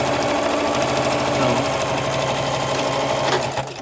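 A sewing machine runs continuously while closing the side seams of a garment, a loud close rapid stitching rattle that slows and stops at the very end.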